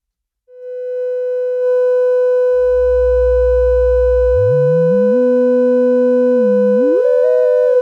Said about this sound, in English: So go 2 sine waves.